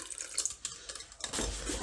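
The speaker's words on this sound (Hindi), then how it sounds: "मैं इसमें थोड़ा सा पानी डाल रही हूँ" Water poured into a bowl of whisked yogurt while making chickpea chaat, a light close trickle that swells into a steadier splashing pour near the end.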